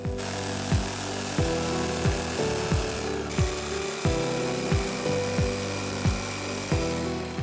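A jigsaw cuts steadily through a plastic barrel in short repeated strokes, each ending in a sharp scrape, loud and close with no voices.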